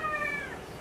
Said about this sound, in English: There's my cat. He's a whiny baby.